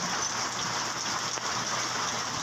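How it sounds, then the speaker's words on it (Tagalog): Heavy rain pouring steadily in a sudden downpour, a dense continuous hiss of drops on surfaces with no voices, even and unbroken throughout. "Lakas ng ulan ngayon, guys."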